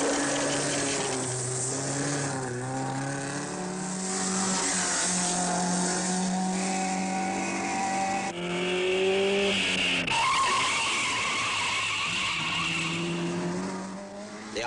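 Rally cars from the 1958 Coupe des Alpes climb an alpine road, engines revving and rising in pitch with tires squealing and skidding, loud and continuous, with no voices over the driving.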